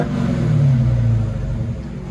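A supercharged 6.2L HEMI V8 in a Dodge Charger Hellcat with an aftermarket exhaust revs briefly and loud and close, a deep throaty rumble swelling and easing back over two seconds.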